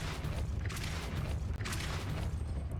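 A Depulso spell cast in Hogwarts Legacy, a low rumbling magical whoosh with booming bursts and a creaking mechanical undertone, fairly quiet and continuous, with no talking.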